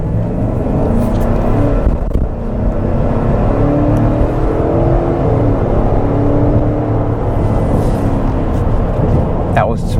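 A 2021 Chevrolet Tahoe accelerating from 0 to 60, its engine a steady rising rumble and whir from inside the cabin, with a person talking over it.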